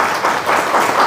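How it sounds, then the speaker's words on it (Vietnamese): Round of applause for a singer in a restaurant gathering, dense steady clapping from a small group throughout, fairly loud and close. "một tràng pháo tay cho ca sĩ chúng ta đi."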